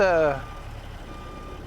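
Truck reversing beeper in American Truck Simulator, a short loud series of rapid tones that cuts off after a fraction of a second, leaving a low idling engine rumble, with a brief spoken exclamation at the start.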